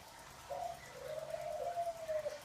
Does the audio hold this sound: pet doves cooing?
yes